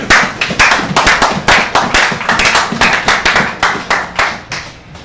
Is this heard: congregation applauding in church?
yes